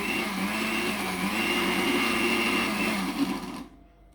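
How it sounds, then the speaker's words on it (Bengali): An electric kitchen blender grinds sesame seeds with water for a small-shrimp dish, a loud steady motor whir that holds for several seconds and then cuts off abruptly into silence. "মেশিনটা চালু করে দিলাম"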